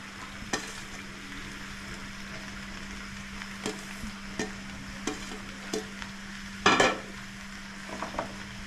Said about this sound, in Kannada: ನಾವು ತೊಗೊಂಡಿರೋ ಪಾಲಕ್ ಸೊಪ್ಪನ್ನು ಹಾಕ್ತಾಯಿದ್ದೀವಿ ಸ್ನೇಹಿತರೆ